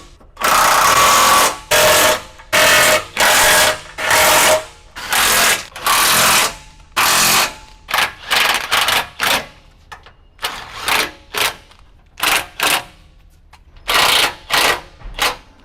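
Impact wrench bursts tightening bolts on a rear swingout bumper of a fifth-generation Toyota 4Runner, repeated loud rattling buzzes of one to two seconds separated by short pauses, close by, with no talk.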